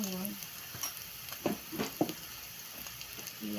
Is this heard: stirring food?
yes